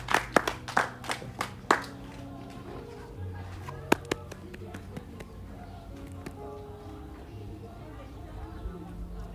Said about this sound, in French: Est-ce qu'on peut acclamer pour les gens qui sont en train de venir?